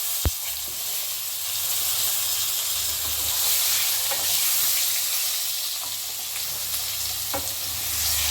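Cut potatoes hit hot oil already seasoned with whole cumin seeds and bay leaf, giving a steady, close sizzle and hiss throughout, broken by a few sharp clicks and scrapes of stirring.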